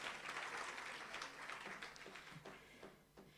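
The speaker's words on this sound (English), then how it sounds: "Can you give another round of applause to our social partners?" Faint, distant applause from an audience at a World Day of Safety and Health event in the Free State, a steady patter of clapping that thins slightly toward the end.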